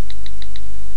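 Soft taps on an iPhone 3G 16GB touchscreen keyboard, four faint evenly spaced clicks within a second over a quiet background hum.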